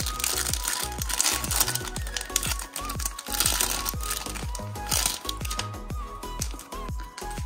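Foil wrapper of a Gengar Pokémon trading card pack being torn open and crinkled, a steady run of close, dense crackling and rustling with many small sharp snaps across several seconds, with no talking.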